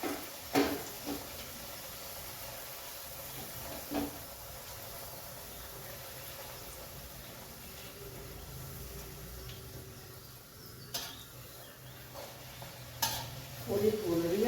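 Puri frying in hot oil in a home kitchen: a faint, steady bubbling sizzle with occasional clinks of a utensil and light scraping, quiet and continuous throughout.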